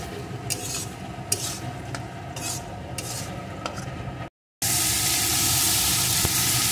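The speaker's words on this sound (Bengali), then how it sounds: "এখন বেশ কিছুক্ষণ মশলাটা আমি কষিয়ে নেব।" A spoon scrapes and stirs a spice paste with turmeric and salt, frying in a pan for a potato and papaya curry. Continuous close scraping and soft sizzling, with a brief silent break partway through.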